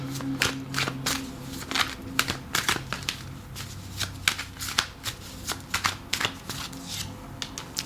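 Tarot cards being shuffled by hand, a rapid run of crisp riffling slaps and flutters in quick bursts, close and fairly quiet, with no talk over them.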